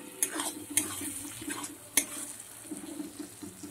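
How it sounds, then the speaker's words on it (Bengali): Spices frying with turmeric and Kashmiri chili powder, a faint low sizzle with a few light clinks of a metal spatula against the pan, quiet and without talk. "এবার মশলাটা ভালো করে আমি কষিয়ে নেব।"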